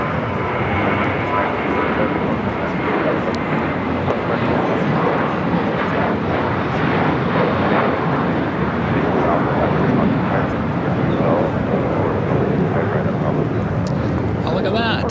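An airliner takes off from runway 25 Right at LAX, its broad, sustained engine roar filling the air at steady loudness, with people talking over it.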